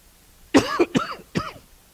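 Three distinct coughs in quick succession, close and fairly loud, with short pauses between them and quiet otherwise.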